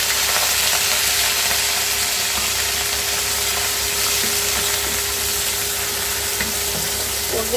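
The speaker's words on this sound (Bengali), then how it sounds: "এবার পানি দিয়ে দিলাম" Onions fry in a pan for chicken roast after water is poured in, giving a loud, continuous broadband sizzle with a low steady hum underneath throughout.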